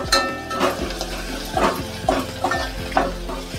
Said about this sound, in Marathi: आता आलं लसणीची पेस्ट घालते, ती पण आता ढवळून घेते